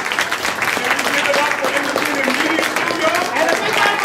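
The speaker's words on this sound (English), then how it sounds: "a round of applause for all of us" An audience at an elections forum in Minnesota breaks into sustained applause, a dense, even wash of clapping filling the whole stretch with voices mixed in.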